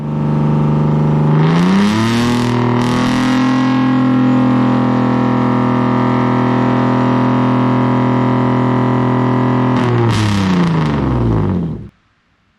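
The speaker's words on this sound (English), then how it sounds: "So I've taken the tips off completely, so it's just the exhaust." Car exhaust with the tips removed, recorded from about a meter away, revs up hard and holds a loud, steady roaring drone for several seconds before dropping back and cutting off abruptly.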